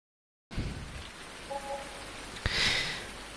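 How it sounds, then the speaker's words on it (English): Rain falling in a PS4 video game, a steady hiss of rainfall starting abruptly after a moment of silence and continuing evenly, with a brief sharp tap and a swelling gust partway through. "Typical! And it rains."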